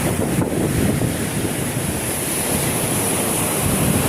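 Sea waves on the shore after Typhoon Goring, a loud, continuous wash of surf mixed with heavy wind buffeting the microphone, with no talk.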